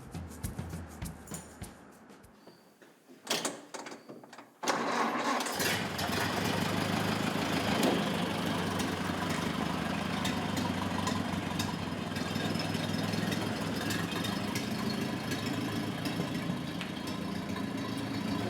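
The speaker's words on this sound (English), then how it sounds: "It is a 1929 Model A Ford Roadster." A 1929 Model A Ford Roadster's four-cylinder engine idles steadily close by, a constant low rumble that sets in after a few seconds of quieter, scattered sounds.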